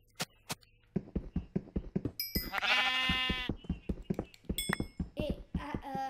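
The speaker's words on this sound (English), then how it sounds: "Don't need that loser sheep." Sheep in the video game Minecraft bleat loudly, with a drawn-out bleat and shorter cries, amid a rapid series of thudding block or footstep sounds.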